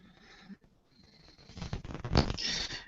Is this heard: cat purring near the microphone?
yes